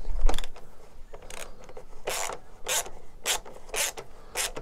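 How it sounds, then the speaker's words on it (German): Rasping, ratcheting strokes as a motorcycle battery bracket is loosened in a garage, about six short bursts in an uneven rhythm, close and fairly loud. "Und dann wird einfach die Halterung gelöst,"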